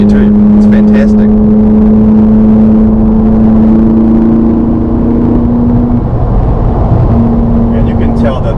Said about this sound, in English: It sees I'm touching the brakes and it shifts down and engine brakes for you too.